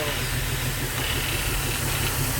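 A built Nissan 350Z engine runs steadily with a rough, uneven idle after a coil pack swap, one cylinder still misfiring, a loud constant hiss and low rumble filling the clip without pause.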